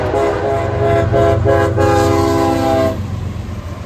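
Close, loud blasts from a CSX freight train's horn, with a GEVO and a YN2 locomotive, sound in short bursts and then one long held chord over the engine rumble before cutting off.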